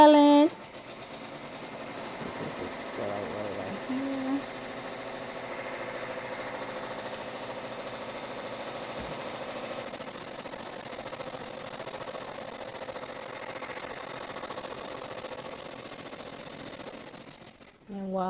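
Embroidery machine running steadily while stitching the placement outline for a backing fabric, a continuous fast mechanical whirr with needle chatter that holds at even volume for most of the clip, with brief talk at the start and end.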